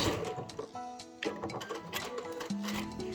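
A sewing machine runs in short bursts while back stitching a fabric pouch, its needle ticking and whirring with brief pauses and changes of pitch, close and moderately quiet.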